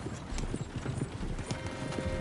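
Horses galloping in a video game, a busy, fast clatter of hooves that stays steady and close, with a faint whinny mixed in and no speech.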